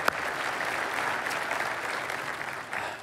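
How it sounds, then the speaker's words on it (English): Applause from the audience at a State of the City address in Mesa, with steady, dense clapping that holds at an even level and then tapers near the end. "let's clap for Charlie"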